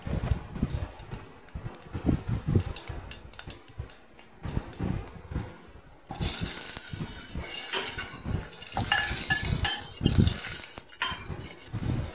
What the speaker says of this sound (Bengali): তেল দিয়ে এতে মেথি আর মৌরি ফোড়ন দিয়ে